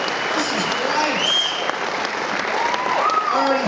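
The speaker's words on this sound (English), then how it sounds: "Keep the applause going for the wonderful volunteers, ladies and gentlemen" A crowd applauds charity volunteers at a charity event: dense, steady clapping that fills the room for the whole stretch, with a few voices mixed into the noise.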